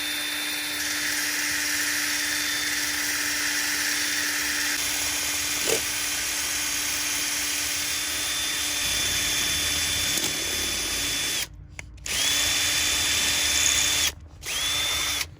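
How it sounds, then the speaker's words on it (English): A power drill runs continuously, boring through the middle of a workpiece, a steady close whine with two brief stops near the end. "So it's like this, and then I'm gonna drill, and I drill through the middle."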